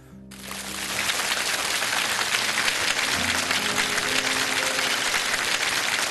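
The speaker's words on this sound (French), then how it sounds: "Applaudissements, s'il vous plaît, pour le commandant Liu et son discours." Audience applause after Commander Liu's speech on the navy, a dense, steady wash of many hands clapping that swells in quickly and holds loud and continuous, with no talking over it.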